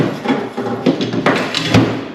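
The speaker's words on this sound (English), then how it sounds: "I could just hammer that up." A hammer strikes a sheet metal panel on a car body, about five sharp, loud blows spaced unevenly, with short ringing tails between them.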